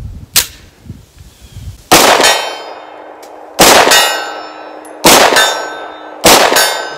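Springfield XDM Elite 10mm pistol fired at steel targets: four sharp, loud shots, each followed by a ringing metallic clang from the steel plate, spaced about a second or so apart and heard without talk.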